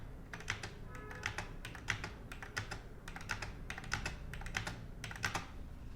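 Computer keyboard keys, backspace and space among them, tapped in quick irregular clusters of light clicks, faint and close with no voices.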